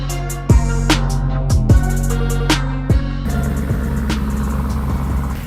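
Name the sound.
car engine rumbling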